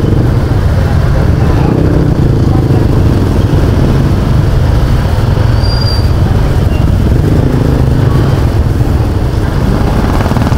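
A motorcycle rides through slow road traffic on a street in Silang, Cavite, its engine a steady, close drone with broadband road and wind noise throughout, other vehicles passing around it.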